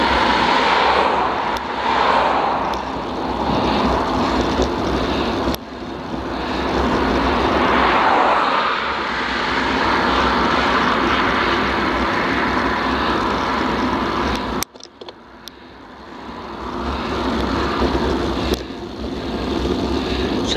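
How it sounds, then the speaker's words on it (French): Strong headwind roars past a cyclist descending the Col du Peutey toward Remiremont, a loud, continuous rushing buffet that drops sharply for a moment partway through before building again, with no talking. "C'est le vent qui ralentit."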